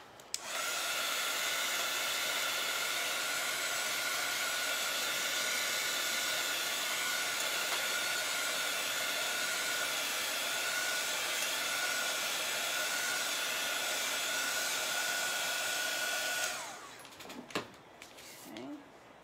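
Hair dryer blowing on a chalkboard surface, a loud, steady close whir for about sixteen seconds, then switched off, followed by a few faint clicks and handling knocks.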